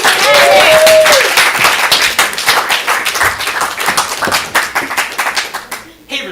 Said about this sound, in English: Please give a big round of applause for the Nancy Boys.